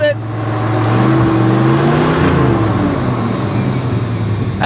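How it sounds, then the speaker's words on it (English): A 1966 Ford Country Sedan's engine revving loudly up close, a steady roaring drone whose harmonic tones climb and sway as the throttle rises and eases, with no talk over it. "We'll just rev it up."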